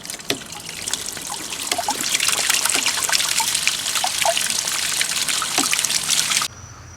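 Water drains and trickles steadily out of a pool filter canister with DE media during pool pump winterizing, a close, continuous splashing flow with small drips that stops abruptly near the end.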